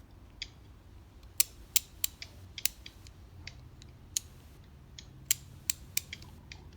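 A Stahlwille 435 3/8-inch ratchet with a 30-tooth mechanism clicks in a series of sharp, close, crisp ticks at an uneven pace, quiet and alone against low background hum.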